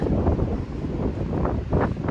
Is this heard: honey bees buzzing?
no